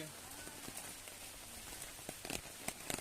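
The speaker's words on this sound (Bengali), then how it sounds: "এই বৃষ্টিতে প্রচুর বৃষ্টি হচ্ছে রাত থেকে।" Quiet rain falls steadily with scattered drops pattering and tapping on a surface nearby, a few sharper drips standing out near the end.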